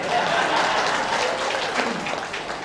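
Audience applause at a Halal Bihalal gathering, a dense, steady wash of clapping from a crowd, close and sustained, with a few voices mixed in.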